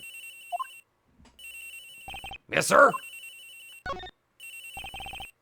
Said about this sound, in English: it sounds like the cell phone's in the flight attendant's room, sir.